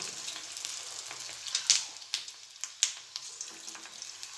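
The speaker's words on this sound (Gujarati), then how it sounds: "આપણે ગેસ મીડિયમ કરી અને કોથમીર વળી મૂકી દઈશું" Quiet, continuous sizzling of coriander fritters frying in hot oil over a medium gas flame, with occasional sharper pops and crackles scattered through.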